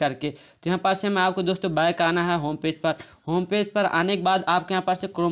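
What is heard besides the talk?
None of the usual background noises is heard.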